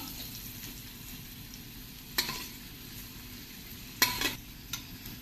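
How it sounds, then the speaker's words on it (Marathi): Chopped onion sautés in a pan over medium heat with a steady, quiet sizzle, marked by two or three crisp utensil scrapes against the pan; nobody speaks. "कांदा छान लालसर होतपर्यंत परतून घ्यायचं आहे."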